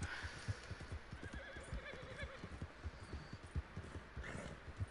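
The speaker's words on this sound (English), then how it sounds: "I'm just riding my horse." A horse in a video game whinnies and neighs while its hooves clop in a steady, repeated rhythm, loud and close, with no talking over it.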